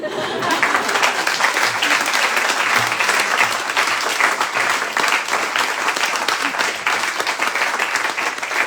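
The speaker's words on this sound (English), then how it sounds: "Let's give one more round of applause for Deesha." An audience at a Square Books reading claps for author Deesha Philyaw after her book reading, with steady, sustained applause filling the room at an even level throughout.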